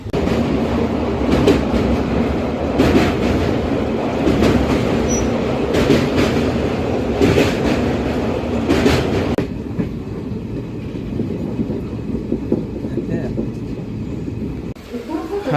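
The Visakhapatnam-Kirandul Express rumbles along the track with a steady clatter of wheels and rhythmic clicks over rail joints, loud at first and then quieter inside the moving coach.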